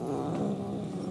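A cat purrs in the video game Murdered: Soul Suspect, a low, continuous rumbling texture, close and steady, with no speech over it.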